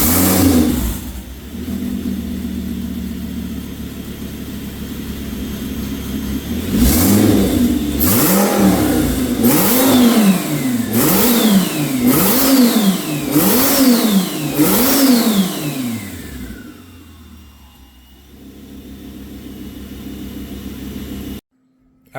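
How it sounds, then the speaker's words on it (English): A twin-turbo 5.2 V10 in an Audi URS6 revs repeatedly toward 6,000 rpm, about seven sharp climbs and drops in quick succession, loud and close, then settles toward idle before cutting off. "a good, decent video that really shows this thing revving out to 6 grand already"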